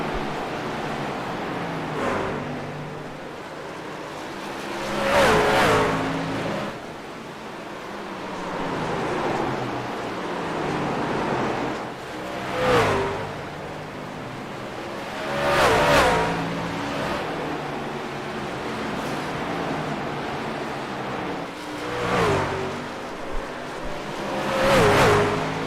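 Race cars roar around a track during a short-track stock car race, engines surging in repeated loud passes every few seconds over a steady broadband roar, no voices.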